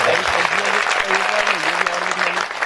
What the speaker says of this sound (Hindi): एक बार तालियां बजाकर मुझे बताइए कि आप ठीक हैं